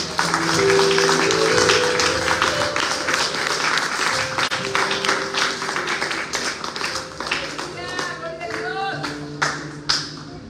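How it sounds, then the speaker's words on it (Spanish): Applause from a church congregation with dense clapping across the whole stretch, mixed with music and some voices. "Denle un fuerte aplauso a nuestro Dios."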